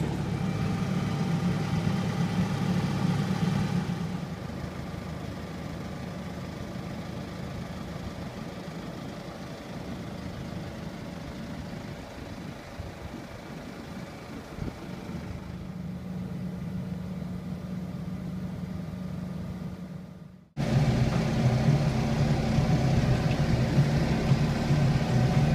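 A timber truck's loading crane engine runs steadily in a low, droning idle with a rougher hum underneath, rising in level partway through and then dipping before resuming louder, with no talk.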